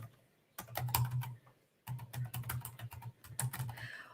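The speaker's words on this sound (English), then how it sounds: "I'm dealing with two different keyboards here, and the Austrian keyboard is different." Keystrokes on a computer keyboard with an Austrian layout rattle in quick, uneven bursts, two sustained runs of typing separated by a short pause, close and fairly quiet with no voices.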